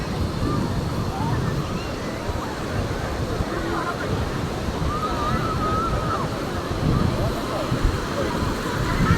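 Sea waves rushing in at high tide and washing over the beach at Murud, a continuous roar of surf with wind noise and people chattering faintly in the background.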